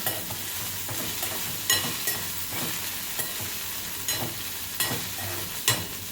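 Okra frying in a pan gives a steady sizzle, while a spoon stirring it adds regular scraping strokes about every half second to second, close and clear, with no talking.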